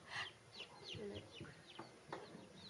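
Newly hatched chicks on a farm give a run of short, high peeping chirps, several in quick succession, close by over a low background rumble.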